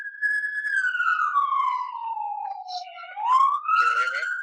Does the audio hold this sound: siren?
yes